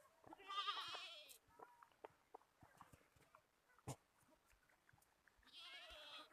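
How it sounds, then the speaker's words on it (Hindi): Young goat kids bleat on a farm, with two faint bleating bursts at the start and end and soft shuffling and clicking sounds between them. "ये सारे हमारे अपने बकरी के छोटे बच्चे हैं।"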